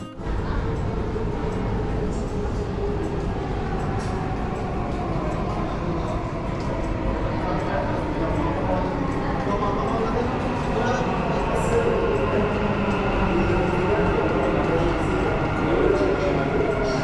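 A Dubai Metro train rumbles steadily through a crowded morning commute, a continuous low roar that swells slightly toward the end, with a faint voice underneath.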